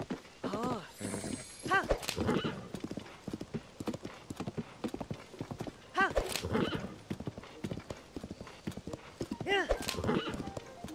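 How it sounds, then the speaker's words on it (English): Horse hooves clip-clop at a gallop in Zelda: Tears of the Kingdom, with the horse neighing and whinnying over quick rhythmic footfalls, close and fairly loud, while game voices talk over it. "here goes Link on his horse."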